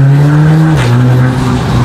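An Audi S3 sedan with a downpipe, aftermarket exhaust and DSG gearbox, its loud, close engine drone dropping in pitch at a gear shift with a brief rough burble, then pulling on steadily.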